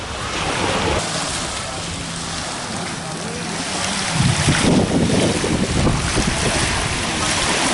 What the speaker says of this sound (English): This is fast boat between Gili and Bali.